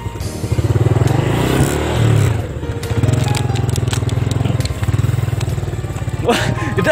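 A motorcycle engine chugs and revs on a muddy plantation track, a loud, steady throbbing with surges of acceleration, while people talk over it.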